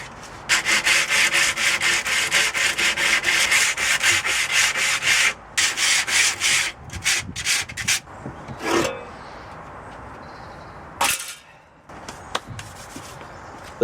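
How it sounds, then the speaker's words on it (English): Wood is hand-sanded for a van bed build, with fast, rhythmic rasping strokes close to the microphone that run steadily, then break into shorter bursts and pauses toward the end. "Just going to get on with sanding really."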